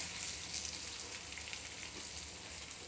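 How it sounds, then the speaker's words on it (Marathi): Spinach and lentil vadi shallow frying in oil in a pan, a steady close hiss and crackle of sizzling that carries on without a break and without speech. "आता हे असे एक मी साईडला असं लावून मस्त अशा भाजून घेते बघा गोल्डन कलरवर"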